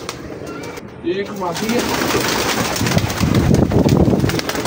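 Pigeons of a prized fancy breed, including a female, coo softly in a few short rounded calls, with someone talking over them and light wind buffeting the microphone.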